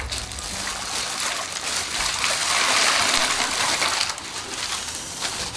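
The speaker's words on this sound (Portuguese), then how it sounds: "Então agora eu vou colocar o gelo aqui nesse balde." Ice cubes being tipped into a bucket of water for an ice bucket challenge, a steady clattering, splashing rush lasting several seconds, close and fairly loud with no talking over it.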